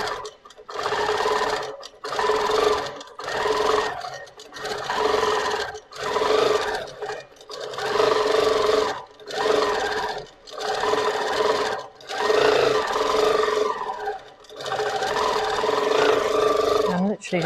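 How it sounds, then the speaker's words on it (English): Moxie XL longarm quilting machine stitching, a rhythmic whirring drone in repeated short bursts about a second apart, close and fairly loud, with continuous running near the end. "You see, it keeps stitching."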